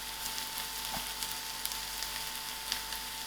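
Onions, garlic and green chillies sizzle in a pan with a steady hiss of frying, a low hum beneath and occasional small crackles, close up and with no one speaking.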